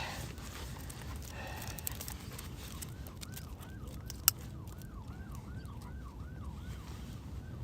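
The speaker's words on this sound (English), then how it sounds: "And a lot of sirens here, for whatever reason." Wailing emergency vehicle sirens rise and fall repeatedly in the distance over a steady wind-like rumble on Mt Helena, with one sharp click partway through.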